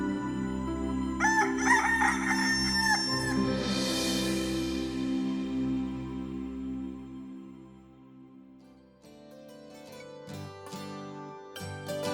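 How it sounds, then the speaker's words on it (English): A rooster crows loudly and close, one drawn-out call over a background of sustained musical tones, followed by plucked notes. "the cockerel wears his red crown when he crows to call forth the sun"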